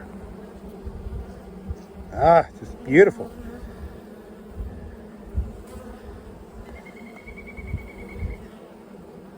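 Bees hum steadily close by, with a couple of louder buzzing passes near the start and a brief spoken remark.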